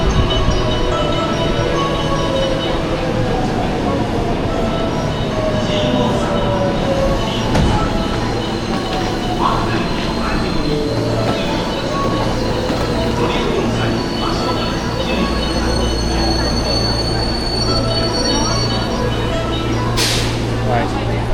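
A train pulls into a station platform in Japan, steady low rumble and rail noise lasting throughout with faint squeals, continuous and fairly loud, with occasional voices in the background.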